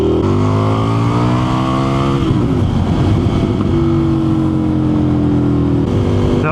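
Indian FTR 1200 motorcycle with an aftermarket exhaust, heard from the rider's seat: a steady engine drone that drops into a choppy, popping burble mid-clip, then settles back into a rising rev.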